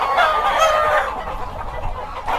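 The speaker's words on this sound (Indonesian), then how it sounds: "Ini ayam ninja." Ninja breed chickens clucking close by, a steady cluster of short calls, louder at first and then fading slightly, with a fresh burst at the end.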